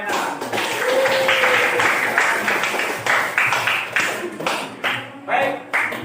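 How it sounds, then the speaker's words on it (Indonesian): Classroom applause for a presenting student group, a room of hands clapping irregularly and fairly close, with some voices mixed in. "Aplaus untuk kelompok enak."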